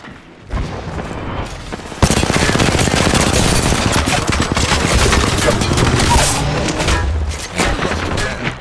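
Sustained gunfire from a shooter video game battle, with rapid bursts and heavy booms packed densely after a brief lead-in, loud and continuous throughout.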